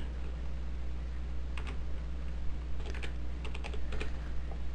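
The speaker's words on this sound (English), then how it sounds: "simply type in your username and your password." Keys tapped on a computer keyboard while a username and password are entered for a math game site login, in short clustered bursts of clicks over a steady low hum.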